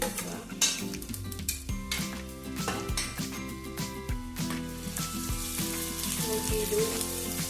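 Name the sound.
ginger frying in a pan for bangude pulimunchi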